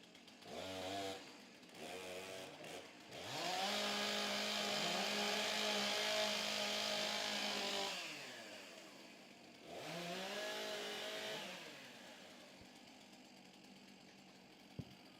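Several STIHL chainsaws rev and warm up at a women's timbersports championship, short bursts then long snarling engine runs that rise and fall, close and loud with idling gaps between.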